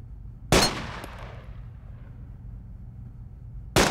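Two sharp single gunshots in Arma II, the first followed by a long fading echo that trails off over a low rumble of ambient noise, the second arriving about three seconds later.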